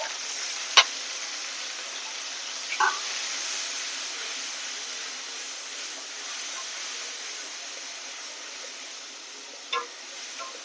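Cumin, coriander, dried red chilli, turmeric and salt frying in hot oil in a pan, a steady close sizzle with a few sharp crackles and pops breaking through, no voices.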